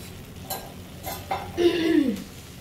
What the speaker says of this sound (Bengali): পোলাওটাকে নেড়ে নেব।